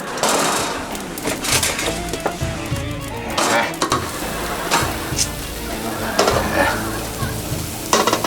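Spicy Adana kebab meat with plenty of onion sizzles and crackles loudly in a hot pan, with occasional scraping and stirring clatter over the steady frying hiss.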